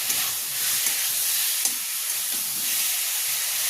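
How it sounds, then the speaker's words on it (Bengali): Spices sizzle steadily in a pan while being fried for a Bengali rui fish curry with raw mango, a continuous close hiss with soft stirring scrapes and no talking. "দেখুন বন্ধুরা, সব মশলাগুলো ভালোভাবে কষা হয়ে গেছে।"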